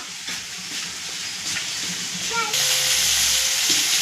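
Pointed parwal and potato pieces sizzle and fry in hot oil in a pan, a steady bright hiss that swells louder partway through, with a faint voice briefly in the background.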